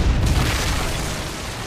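A Predator missile strike explodes in Call of Duty: Modern Warfare 3, a loud, sustained low boom rumbling for well over a second with no talk over it.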